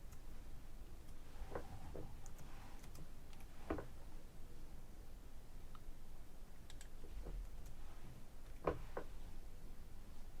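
Sparse keyboard typing as a code is entered, a handful of faint clicks and taps spread irregularly over a quiet, hissy background.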